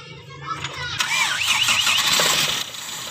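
A Toyota Kijang 5K engine with a newly fitted distributor starts: a brief crank, then it catches at once and settles into a steady, fairly loud run, with faint voices nearby.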